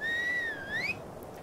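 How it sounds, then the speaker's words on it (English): A single whistle used as a stop command in the video game Ark, a clear, close tone that holds steady, dips and rises again before cutting off. "Alright, whistle stop."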